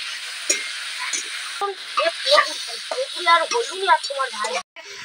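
Potatoes and mixed vegetables sautéing in a pan for a magur fish curry, a steady sizzle with someone talking over it, and a brief drop near the end.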